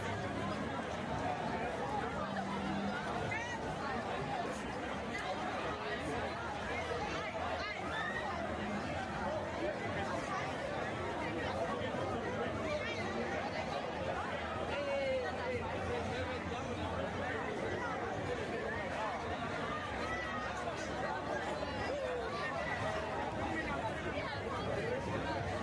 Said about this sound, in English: visitors are struggling across the overcrowded Virgin Ane Street until they finally manage to push their way through the crowd